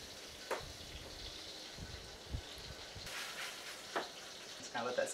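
Peaches simmer in a pan with their juices, seasoned with salt and pepper over lowered heat, making a quiet bubbling sizzle with a few soft clinks and knocks, heard alone.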